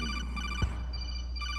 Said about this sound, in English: Oh, my phone's ringing.